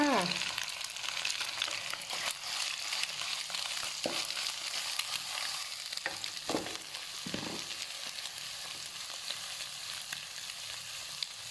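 Pork belly stir-frying in a hot pan for Thai fried rice, a steady close sizzle and crackle of oil with occasional scraping strokes of a spatula, continuous throughout without talk.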